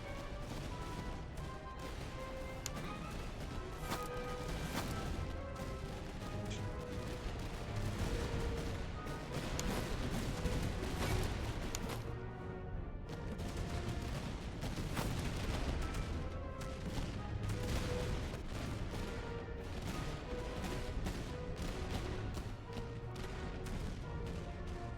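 Musket volleys and gunfire roar continuously in the Napoleonic-era strategy game Master of Command, dense overlapping shots and crashes sustained at high loudness throughout, with a brief lull near the middle before the firing swells again.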